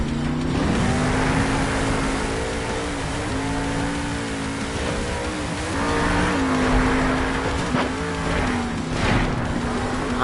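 A monster truck roars through a stadium freestyle run toward a car stack jammer, its engine droning loud and steady with revving swells and a few sharp mechanical hits and crunches near the end.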